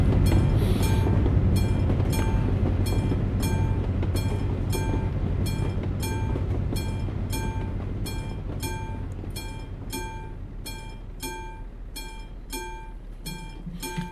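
A train in Euro Truck Simulator rolls steadily past with a rhythmic metallic clatter and ringing tones, loud at first and slowly fading as it moves away.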